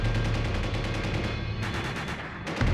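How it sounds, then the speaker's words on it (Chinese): Intense gunfire from unidentified armed men shooting into the sky near a peacekeeping camp: rapid, dense bursts of automatic fire, sustained and loud, with a short lull before another burst. "营区的四周却突然响起了激烈的枪声， 一股不明身份的武装人员向天空随心所欲地开着枪"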